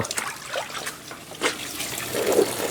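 Water runs steadily into a container at a rural home, a continuous splashing trickle that builds slightly louder toward the end, with no talking over it.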